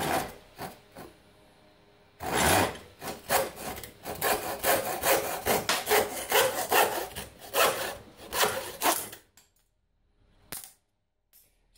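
Hand saw cutting through a worn piece of wood clamped in a forged Bellota 6700 150 bench vise: rapid, rhythmic rasping back-and-forth strokes, close and clear, after a few tentative starts, ending with quiet pauses.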